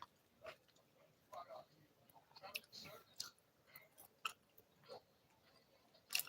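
Crispy, crunchy tater tots being chewed close up during a late dinner, with soft irregular crunches and mouth clicks spread through the clip and a sharper crunch at the end, with no talking.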